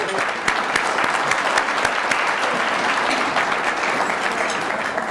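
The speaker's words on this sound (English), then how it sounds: "So please give them a round of applause." Sustained audience applause fills a conference hall, steady and dense throughout with no talk over it.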